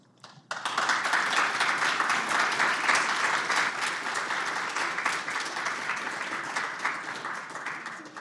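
A live audience at a public observance event on inequality breaks into steady, full applause that starts abruptly and keeps up evenly for several seconds, filling a large room.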